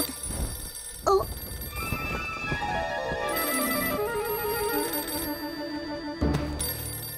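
A telephone rings in a French children's cartoon: electronic ringtone notes in stepped melodic phrases that repeat, fairly clear, with brief cartoon sound effects between them.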